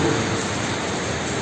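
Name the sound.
rain falling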